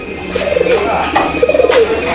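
Red male Goroya pigeon cooing at a pigeon farm in Bangladesh, giving a few soft, rolling coos in two close bursts, near and clear, with a voice talking faintly in the background.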